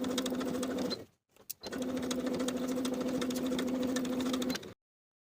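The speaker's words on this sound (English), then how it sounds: "Baste along the side seams with an 1/8-inch seam allowance." A sewing machine runs steadily at close range, basting the side seams of athletic shorts with a fast, even stitching hum. It pauses once for about half a second, then runs again before stopping abruptly.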